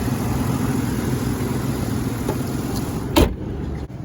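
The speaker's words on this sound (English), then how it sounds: "Runs and idles very smooth." A 2008 Ford Explorer Police SUV engine idles smoothly in a steady, close low hum, broken near the end by a brief sharp click or thump.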